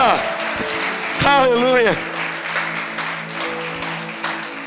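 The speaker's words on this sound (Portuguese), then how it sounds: "aplauda o Senhor bem forte" A church congregation claps strongly through a sermon, with a rush of hand claps and taps under a preacher's loud, drawn-out shout, and the clapping stays busy after the voice drops.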